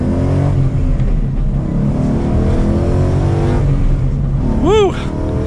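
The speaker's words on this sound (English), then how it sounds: "So we're going to give it one last acceleration here as we wait for this truck." A manual Ford Mustang GT with a 5-liter V8 pulls hard under acceleration, its engine note climbing steadily and loud from inside the car, and a brief whoop rises over the roar near the end.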